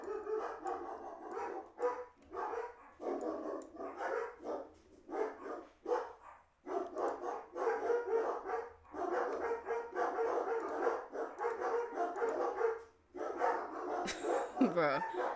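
Several dogs barking at home, loud and repeated in dense bursts with brief pauses, sharp yips mixed in, continuing through most of the stretch, then a whimpering whine near the end.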